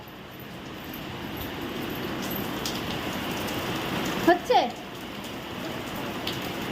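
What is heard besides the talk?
heavy rain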